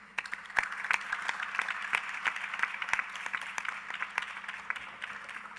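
Dense applause from a conference audience at the ICASA 2025 meeting, many hands clapping steadily and fairly close for several seconds, with no talking over it.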